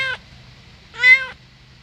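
A cat meows twice in a quiet indoor workshop, one short clipped call followed by a longer, louder, drawn-out meow, alone with no talk.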